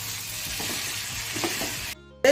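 Fried potatoes being sautéed with spices in a pan for a vegetarian aloo dum, a close, steady sizzle with scraping stirs, cutting off abruptly near the end.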